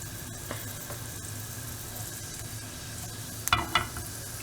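Onion sautéing with mustard seeds, urad dal and cumin in an iron pan for okra poriyal, a constant low sizzle with a few soft ladle scrapes and a brief louder stir near the end.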